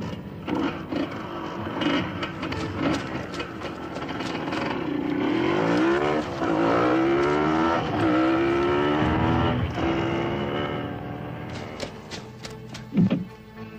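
A white car races past with a sustained engine roar and rising, sweeping pitch, loud and close for much of the run, with a few sharp knocks and a brief burst near the end.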